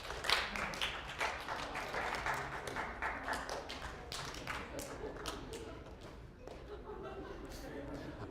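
An audience claps in scattered, uneven bursts while watching two pictures flick back and forth to spot a difference. Sharp taps come and go throughout, and a voice speaks faintly underneath.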